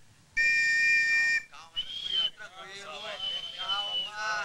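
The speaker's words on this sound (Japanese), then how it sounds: "口笛が鳴らされる中木梨憲武選手参りましょう" A loud, steady crowd whistle lasts about a second during a soccer penalty kick, then someone commentates quickly in Japanese over faint background noise.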